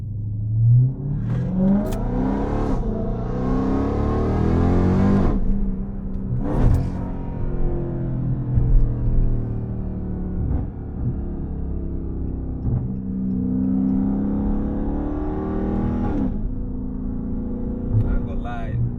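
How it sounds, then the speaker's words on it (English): A Dodge Hellcat in sport mode accelerates hard, its engine climbing in pitch and dropping sharply at each quick gear shift, a repeated rising-and-falling roar heard from inside the car with a voice talking over it. "I ain't gonna lie, that thing do shift aggressive"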